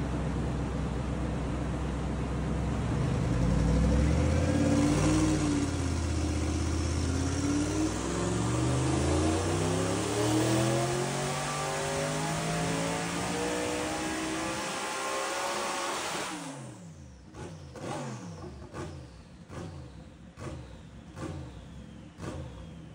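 A BMW M4 DTM race car engine climbs through a long, loud rev on a dyno, pitch rising steadily, then drops off and pops and crackles as it winds down.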